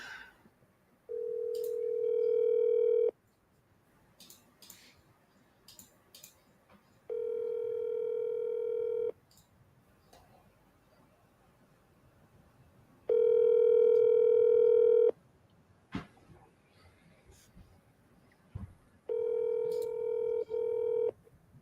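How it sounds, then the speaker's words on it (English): A telephone call in a live agent outreach session, with four evenly spaced ringback tones, each about two seconds long, separated by quiet gaps and faint clicks. "Calling Jody"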